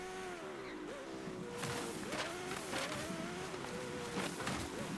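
A car in a racing video game, driven toward a highway on the map's perimeter, hums at a low level with the engine note rising and falling as it accelerates and shifts, no voices.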